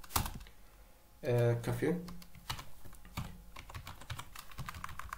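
Rapid keystrokes on a computer keyboard come in clustered bursts of crisp clicks, with a short spoken word in between.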